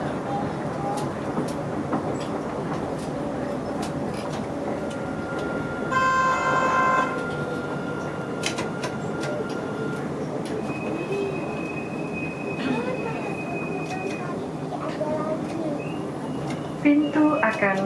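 An airport skytrain rolls into Soekarno-Hatta Airport Railway Station with rumbling wheels, a brief squeal of brakes and a short chime-like tone, steady and fairly loud throughout.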